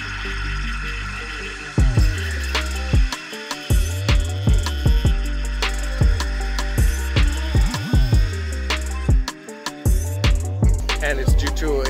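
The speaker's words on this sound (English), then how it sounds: "correct your power steering fluid noise that you're getting when you start that engine up. It sounds like this." A Mercedes power steering pump runs low on fluid at engine start, giving a steady droning whine with repeated knocking pulses, loud and close, with no talking.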